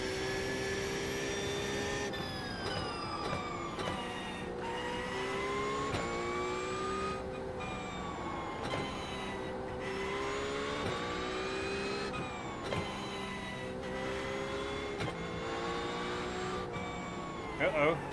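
A Porsche GT3 race car in a racing video game on the Miami Autodrome track, its engine revving steadily throughout with repeated rising and falling pitch through gear shifts, loud and continuous, with talk over it.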